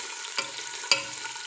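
Biryani ingredients being stirred in a hot frying pan: a low sizzle with two sharp stirring scrapes close by, no voices.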